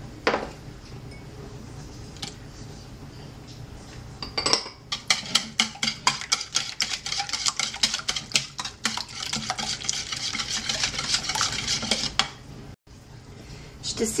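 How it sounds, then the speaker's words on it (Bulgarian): Four eggs whisked in a bowl give a fast, steady clatter of rapid clinks that starts a few seconds in and continues loud and close to the end, with no voices. "Като начало ще си разбием 4 яйца"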